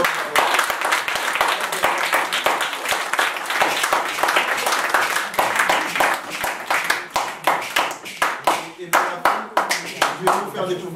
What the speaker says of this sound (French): On applaudit le gouverneur.